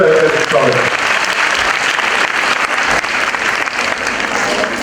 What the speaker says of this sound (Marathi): त्या सर्व विद्यार्थिनींचं सुद्धा टाळ्या वाजवून स्वागत